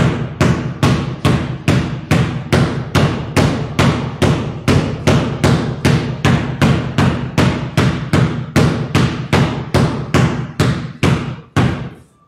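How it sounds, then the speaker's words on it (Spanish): Basketball dribbled hard and fast with the left hand during a training drill, a long run of rapid, evenly spaced loud bounces close by, about two per second, stopping abruptly at the end with no talking. "Mano izquierda, viendo enfrente, fuerte, botando fuerte, lo más rápido que puedan y fuerte."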